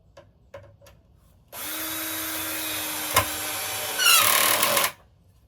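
A power drill bores into wood while building a raised garden bed, starting with a few light taps, then a loud steady whine that climbs as the bit bites, before stopping abruptly.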